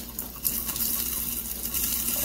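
Water poured over burning waterproof tinder made from natural materials, giving a steady, close rush of splashing and hissing that runs unbroken for a couple of seconds.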